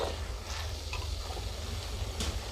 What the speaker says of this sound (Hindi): ये मेरे पास टमाटर है 2। टमाटर इसके अंदर डाल दूँगी।